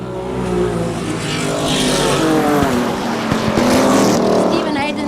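Stock cars racing on an oval track, several engines roaring and droning together at full throttle, loud and continuous, with a commentator talking over them.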